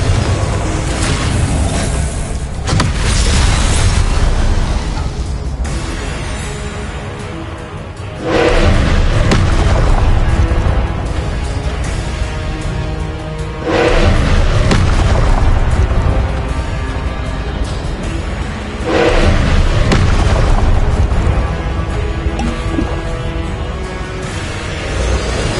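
Confringo blasting spells explode repeatedly in the Hogwarts Legacy game, a series of loud booming blasts arriving every few seconds, each followed by rumbling debris, continuous and close with no talk.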